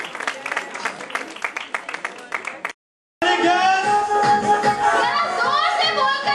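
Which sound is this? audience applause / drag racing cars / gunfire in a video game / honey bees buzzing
audience applause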